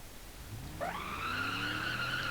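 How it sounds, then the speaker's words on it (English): A Gavril Barstow with a 423 V8 does a one-wheel burnout in BeamNG.drive. A low engine drone gives way to a sudden, loud, sustained tyre squeal that rises in pitch and holds steady. "Again, doing a one tyre fire."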